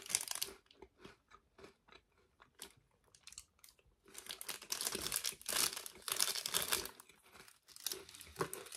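Close, crisp crunching and chewing of a crunchy Oreo-like sandwich cookie with white filling, with repeated bites and chews over several seconds and no talking.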